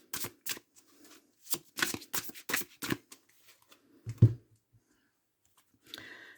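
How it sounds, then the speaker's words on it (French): A deck of 'Clés du destin' oracle cards is shuffled by hand for a six-card reading, with crisp, close riffling bursts in quick clusters, then a pause, a soft thump and a light rustle at the end. "On va faire un petit tirage à 6 cartes avec l'oracle des clés du destin"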